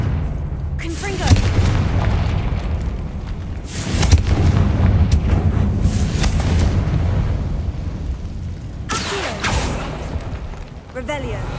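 Booming fire-spell explosions from the Confringo curse in the video game Hogwarts Legacy, three loud bursts spaced several seconds apart over a rumbling in-game background.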